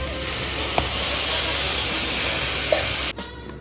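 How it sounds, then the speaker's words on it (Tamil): Chopped tomatoes sautéing in a pan for tomato rice, a steady soft sizzle and hiss throughout with a couple of faint stirring clicks, cutting off near the end. "இப்போ தக்காளி ஆட் பண்ணி வதக்கணும்"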